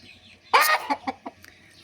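Decorative chickens, kept as broody hens and sold to rooster fanciers, give a loud squawking cackle followed by three or four short, spaced clucks nearby.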